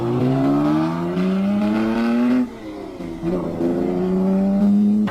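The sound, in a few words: racing cars roaring past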